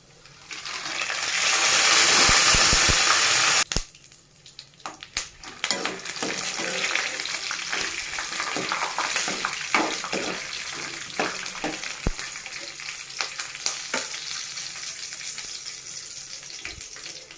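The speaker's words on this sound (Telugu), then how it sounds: "ఆయిల్ హీట్ అయిన తర్వాత అందులో ధనియా యాడ్ చేసుకుందాం, అలాగే పల్లీలను యాడ్ చేసుకున్నామండి, అలాగే ఎండుమిర్చి." Coriander seeds, peanuts and dried red chillies are tipped into hot oil. There is a loud sizzling burst, then a steady crackling fry broken by small pops and the scrape of stirring.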